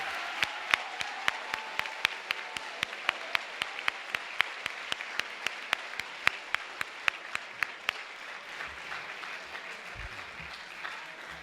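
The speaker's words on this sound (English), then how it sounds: "please hold your applause to the end" Applause from the audience at a school orchestra concert comes as a steady, moderately loud wash of clapping. It fades out near the end and leaves a quiet room.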